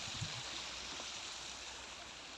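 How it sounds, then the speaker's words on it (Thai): Steady broadband rush of a waterfall at a nature spot in Ubon Ratchathani, Thailand, a constant even roar with no other sounds standing out. "มาเบิ่งน้ำตกแล้ว"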